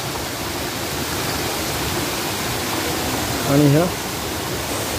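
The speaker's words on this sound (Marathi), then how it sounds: "वरतून पाणी पडत आहे" Water pours from above at the Kondhane caves waterfall on the Rajmachi trek, a loud, steady broadband roar throughout, with someone speaking briefly over it near the end.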